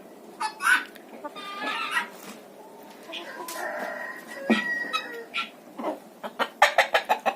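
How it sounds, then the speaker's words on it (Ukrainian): Guinea fowl and chickens walk about a farmyard on a mild winter day, giving scattered clucks and sharp calls in uneven bursts, fairly close, with someone talking quietly among them. "Сесарочки вийшли на двір разом з курочками добре гуляють, ходять."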